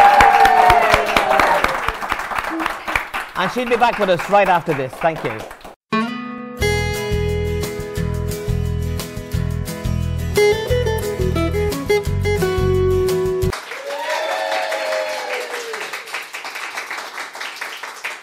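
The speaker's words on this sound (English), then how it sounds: "Let's hear a big, big round of applause for her" A television talk-show audience applauds a singer, with the clapping running under a host's talk before music starts, then returning briefly near the end.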